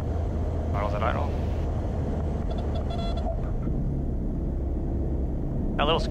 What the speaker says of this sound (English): That little squeak is actually something you want to be hearing. The stall horn, right?